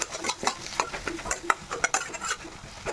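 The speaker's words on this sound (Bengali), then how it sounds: "দিয়ে এটাকে আমি খুব ভালোভাবে মিক্স করতে থাকবো" A spatula stirs a fried potato mixture with chopped coriander in a pan, rhythmic scraping strokes over a soft sizzle, close and steady with no talk.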